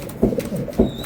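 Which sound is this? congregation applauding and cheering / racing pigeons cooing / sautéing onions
racing pigeons cooing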